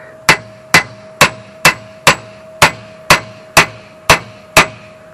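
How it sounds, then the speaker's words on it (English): A hammer strikes a sickle mower blade laid on a solid piece of steel, giving ten sharp, evenly spaced metallic clangs with a ringing tone, close and loud with nothing else heard. "The key is the hammer and the solid piece of steel."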